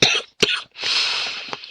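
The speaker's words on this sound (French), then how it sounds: "Je tousse trop, ça me fatigue, ça commence à me faire mal aux côtes de tousser." A person coughing hard and repeatedly from a lingering cough that makes their ribs ache, with two harsh bursts and a longer rasping fit, close and loud with no talk.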